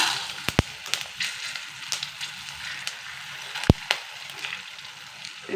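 Chillies and dal frying in hot mustard oil for lemon rice, a steady close sizzle with crackling pops and a couple of sharp spits, no talking.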